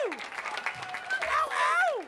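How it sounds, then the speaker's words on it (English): A comedy club crowd at the Laff Lounge of Susky River Grille cheers for stand-up comic Justin Hancock, with loud rising and falling whoops over scattered clapping. "Start clapping now."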